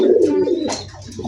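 Blue satin pigeons, a pair offered for sale, give a low, throaty coo that runs through the clip close and clear, with a brief higher chirp partway in.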